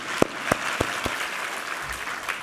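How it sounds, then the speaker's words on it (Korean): Congregation clapping during a Sunday church service, a few separate sharp claps spaced about every quarter second, then a looser, softer patter of hands that fades toward the end. "우리 하나님께 감사와 영광의 박수 올려드리겠습니다."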